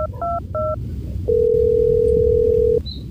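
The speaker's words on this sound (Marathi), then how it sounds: "बस लाव फोन आज वहिनीला." Placing a phone call: a few quick keypad beeps come first, then a single long steady ringing tone sounds loud and clear before cutting off.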